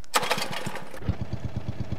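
A modded 1970s-era lawn tractor engine in a video game is pull-started: a burst of cranking strokes, then a brief catch and a steady, close, thumping single-cylinder idle with an even rhythm.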